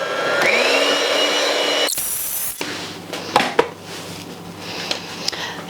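An electric mixer beats cream cheese into carrot cake frosting, its steady motor whine running for about two seconds before cutting off, followed by a few soft scrapes and knocks of the bowl.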